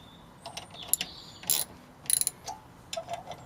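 Several sharp metallic rattles and clinks come from a brake drum, arriving in brief irregular bursts against a quiet background.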